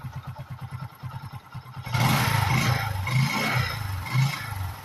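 Bajaj CT125 motorcycle fitted with a Rouser CDI, a low single-cylinder engine chugging quietly at first, then a louder idle with a rougher, fuller exhaust note, close by and alone.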